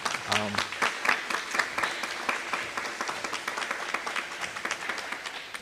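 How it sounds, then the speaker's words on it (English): An audience claps for a local Black-owned catering business at a community panel event, a brisk burst of applause that stays steady and dense to the end. "I would love for you all to give an applause to them too as well, right?"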